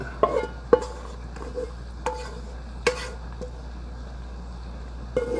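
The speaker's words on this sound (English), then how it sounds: "we're gonna come in here and add our elbow macaroni to it" Scattered clinks and soft clatters of pasta hitting a pot, a few sharp taps spaced irregularly with quiet gaps between them.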